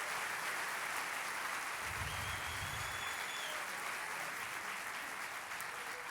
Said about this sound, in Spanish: Vamos a darle ese aplauso fuerte al Señor.